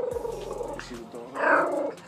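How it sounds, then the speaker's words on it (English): A dog growls low and briefly at close range, with a louder rough snarl near the end, while a person speaks over parts of it. "You see the dog?"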